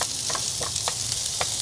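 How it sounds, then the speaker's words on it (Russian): Food fries steadily in a pan in a truck driver's cab, a constant bright sizzle broken by a few sharp scraping stirs, close and loud with no voices. "Итак, я уже все разровнял, все жарится."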